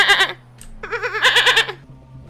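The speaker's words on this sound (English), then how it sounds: "It was probably a goat." A goat bleats repeatedly in the Far Cry 3 video game, a wavering bleat, a short pause, then a longer series of loud, close calls over a low steady game hum.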